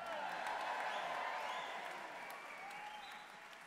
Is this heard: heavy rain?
no